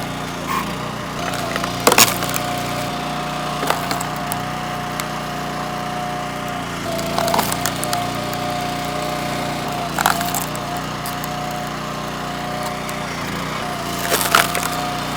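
Hickory firewood being split by an engine-driven splitter, with sharp cracking and splintering bursts at irregular intervals over a steady motor hum, close and fairly loud.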